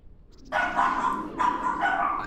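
A dog barks in two drawn-out, loud bursts close by, each a harsh howling yelp that holds for nearly a second, with a short gap between them.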